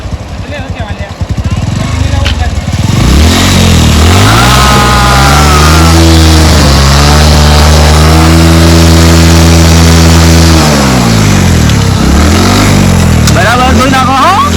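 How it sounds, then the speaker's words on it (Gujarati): A motorbike left for washing starts up and runs close by, its engine revving up and settling in a loud, steady drone, with people talking nearby. "હા બાઈક ચાલુ તો થઈ ગયું."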